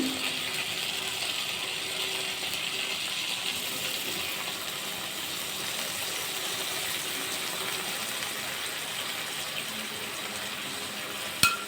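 Mustard-soaking water is poured into bhindi cooking in a pan, a steady close hissing wash of liquid and sizzle lasting about twelve seconds, ending with a sharp knock.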